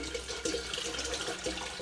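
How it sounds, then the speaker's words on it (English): Water is poured into a soy milk maker, producing a close, steady, hissing splash that runs continuously without pause, with no talking over it. "And now we add a bit more water."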